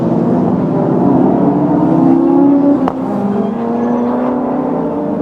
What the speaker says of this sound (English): Listen to the roar as they come up towards the start line